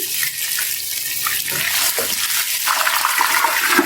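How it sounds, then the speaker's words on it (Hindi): Water pours into a cooking pot while making mutton yakhni pulao, a loud, close, continuous rushing stream heard on its own without speech. "यहाँ इसमें मैं थोड़ा सा पानी डाल दूंगी।"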